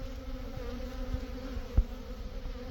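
A dense, steady buzz of honeybees swarms around a large hornet at open hives, close and continuous with a faint low hum and one soft thump.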